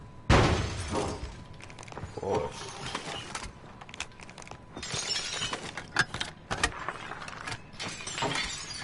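Glass shatters in a console shooter with a sharp, loud burst near the start, followed by scattered clinks, thuds and game noise for several seconds.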